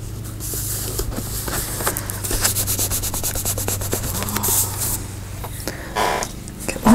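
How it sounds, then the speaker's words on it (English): A towel rubbed over paper on a church pew during a paper craft project, giving a steady, close scratchy rubbing that runs for several seconds with small bursts of friction. "I tried to rub a hole in the church pew"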